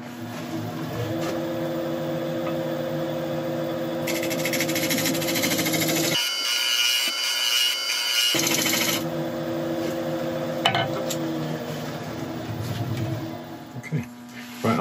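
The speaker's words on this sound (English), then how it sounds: "I'll just give it a quick scrape around here" A scraper works a burl bowl spinning on a wood lathe, giving a steady whirring motor drone with rough scraping texture throughout and a brief shift in tone midway.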